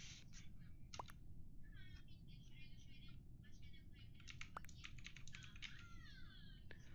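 Rapid keyboard typing during an Among Us game, a fast run of light clicks over a steady background hum, close to the microphone, with occasional sharper taps.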